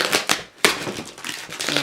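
A tightly wrapped Aliexpress parcel holding a PiPo M9 Pro tablet is torn and crushed open, heavy plastic and tape crackling in close, uneven bursts, with no one talking.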